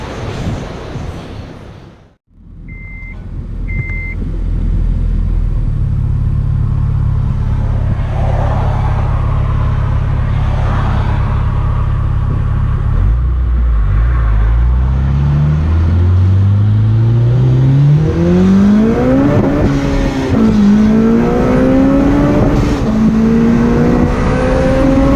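A car rolls out onto the road after its engine catches, holding a steady low drone before accelerating through rising gears, engine pitch climbing, dipping at a shift, then climbing again, loud and close from inside.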